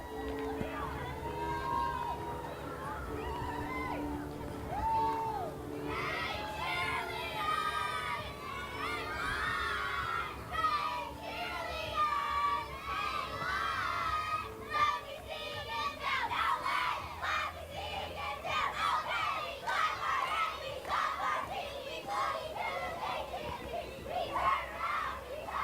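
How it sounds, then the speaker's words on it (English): At a 2017 Independence Day town parade in Penfield, a crowd of children and adults cheers and shouts for the Penfield youth football and cheer group, a loud and sustained mass of high voices and whoops close by. "we heard those cheers today"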